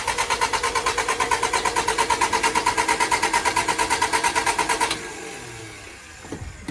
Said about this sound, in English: Couple little crankaroos. Priming that oil pressure.